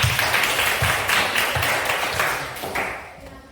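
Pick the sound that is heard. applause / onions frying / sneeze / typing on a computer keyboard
applause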